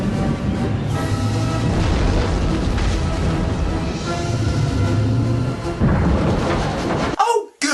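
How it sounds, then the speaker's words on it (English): Battleship gun sound effects from the low-budget film Mega Shark vs. Giant Octopus, heard as a dense, loud rumble of booming blasts that stays continuous before a sudden cutoff near the end. "Nice to see they stuck some gun effects on a stock battleship that isn't even firing in the right direction."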